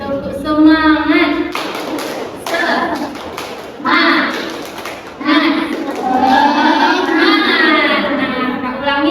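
Children perform the tepuk semangat clapping chant in a classroom, with rhythmic bursts of hand claps mixed with chanted and sung voices over several seconds.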